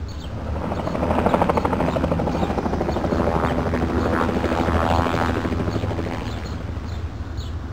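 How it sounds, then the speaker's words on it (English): A helicopter's rotor blades thump steadily with a loud engine roar as it flies, holding close and constant throughout with no voices. "Because the helicopter has rotor blades instead of wings, it can fly straight up into the air"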